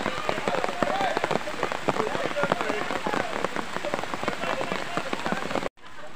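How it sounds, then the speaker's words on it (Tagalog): Steady rain pours down hard on a trail after an enduro ride, a dense, loud hiss of drops spattering surfaces that holds strong throughout before cutting off abruptly near the end. "Medyo lumalakas na naman ang ulan"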